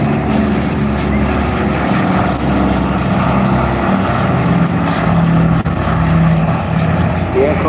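Douglas Dakota WWII propeller transport aircraft, painted as a 233 Squadron D-Day era plane, flies past at a beach airshow in Bournemouth; a steady loud engine drone fills the whole stretch while a commentator talks over it.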